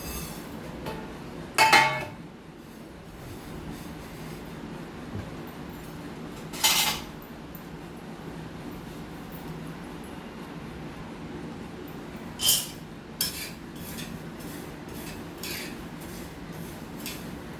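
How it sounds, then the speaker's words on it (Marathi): Niger seeds dry-roasting in a pan over a gas flame: a few sharp metallic clinks of a utensil against the pan, spaced several seconds apart, over a steady low background hum. "आता हे कारळे मी भाजत आहे"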